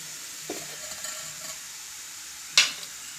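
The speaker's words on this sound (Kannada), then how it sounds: "ಈಗ ಇದಕ್ಕೆ ನಾನು ಹಾಲನ್ನು ಹಾಕ್ಕೊಳ್ತಿದ್ದೀನಿ" Carrots fried in ghee in a pan as milk goes in, a faint low sizzle under a few soft stirring scrapes and one sharp utensil clink near the end, close and quiet.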